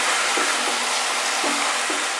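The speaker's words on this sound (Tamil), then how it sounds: "சிக்கனை போட்டு நல்லா பிரட்டுங்க" Chicken pieces are stirred and fried in a pan for village-style pepper chicken, producing a loud, dense, continuous sizzle with a few faint scrapes of the spoon underneath.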